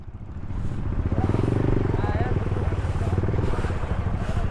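A motorcycle engine chugs steadily up close, its throbbing rumble rising and holding as it rides over a rough trail from Botolan, Zambales to Pinatubo, with a voice briefly heard over it.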